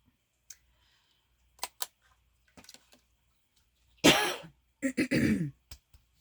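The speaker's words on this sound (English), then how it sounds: "I've been trying so hard not to cough." Scattered faint clicks, then a loud throat clearing followed by a burst of harsh coughs, close to the listener, with no talking.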